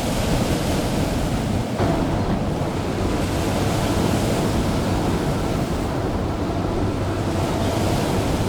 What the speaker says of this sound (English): rocked gently by the waves